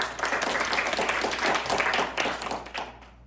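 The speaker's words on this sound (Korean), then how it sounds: "다시 한번 큰 박수 부탁드립니다" A university student performance audience in Korea gives a round of applause, sustained close clapping from many hands that holds steady before tapering off at the end.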